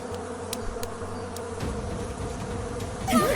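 Bees buzz in a dense, continuous drone at moderate distance, with faint clicks and rustles mixed in and no talk.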